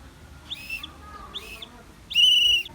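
A whistle blows the Morse code letter U: two short peeps followed by a longer, louder blast, clear and close against a quiet background.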